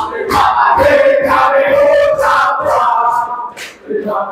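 A group of people shouts their team yell in unison during a classroom group presentation at a teacher-training exam, with rhythmic chanted voices loud and close, running continuously for several seconds.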